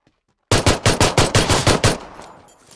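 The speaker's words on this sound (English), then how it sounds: "The other guy was shooting at us though." Automatic gunfire in the video game Battlegrounds: a loud, close burst of about eight rapid, evenly spaced shots that stops abruptly and leaves a fading echo.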